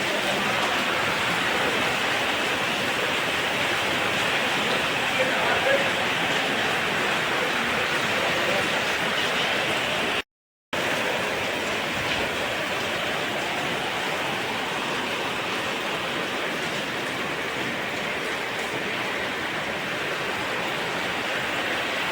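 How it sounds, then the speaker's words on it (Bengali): Heavy rain pours in a dense, continuous hiss close around the listener, unbroken except for a split-second gap midway, with no voices. "তো বন্ধুরা দেখো কত জোরে বৃষ্টি হচ্ছে।"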